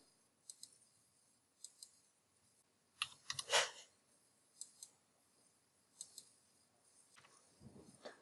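Sparse, faint keystrokes on a computer keyboard, scattered single and double clicks with a short burst of quicker taps in the middle, in a quiet room.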